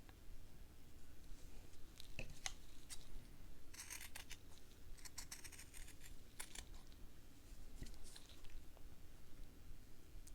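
Fabric being trimmed with scissors while stitching a fabric gingerbread house, crisp close snips coming in short bursts and scattered single cuts over a quiet background, no voices.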